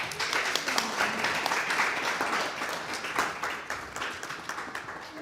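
Steady, dense applause from an audience for two panelists at a talk on the aesthetics of Black Power, a full room clapping continuously at moderate loudness with no voices over it.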